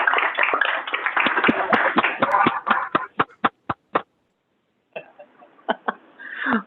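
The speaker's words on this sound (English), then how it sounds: "Can we get a round of applause for MAG and their team?" Clapping from a small audience at a transportation policy committee meeting, dense at first and thinning into a handful of separate sharp claps before a pause, then a few scattered claps and a low voice.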